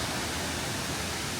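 Waterfall in Sapa, a dense, even rush of falling water, loud and constant, with no voices.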